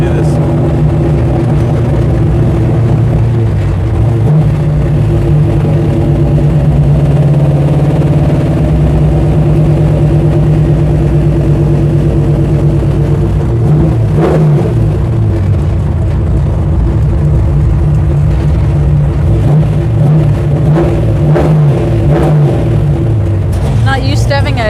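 A 1968 Dodge Charger's V8 engine runs steadily and loud from start to finish, a deep idle rumble with a few sharper revs rising partway through and again near the end, heard from inside the car while cruising.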